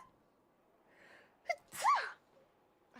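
A single person's sneeze, quiet and close, with a short sharp intake breath just before the loud burst and silence around it.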